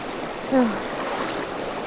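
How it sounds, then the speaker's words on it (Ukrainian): A fast mountain stream swollen in late summer rushes in a steady, loud broadband roar close by, with a brief tonal squeak mid-way and no talk. "А зараз такий потік."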